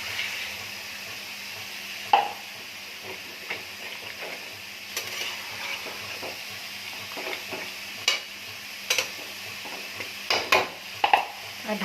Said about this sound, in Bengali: এবার আমি একটু গরম জল দিয়ে দিচ্ছি।